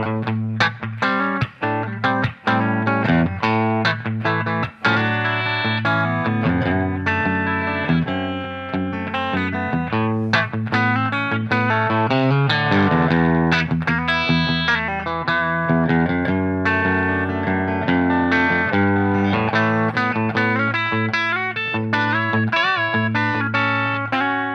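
An electric guitar on the bridge pickup plays sustained, slightly driven chords and notes through a Silktone 12-watt KT66 tube amplifier, ringing out with a warm, overdriven edge and no voices.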